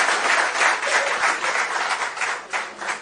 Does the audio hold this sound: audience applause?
yes